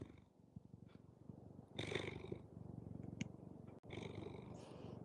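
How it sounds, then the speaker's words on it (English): A ragdoll cat purring close by: a steady low rumble running through the whole stretch, with brief bursts of higher rustling noise on top and a short dropout near the end. "Could you hear him purring?"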